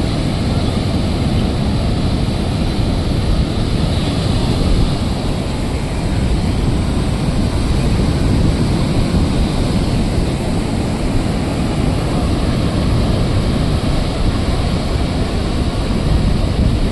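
Sea waves roar on Puri beach under cloudy skies after heavy rain, a loud, unbroken wash of surf mixed with strong wind buffeting the microphone.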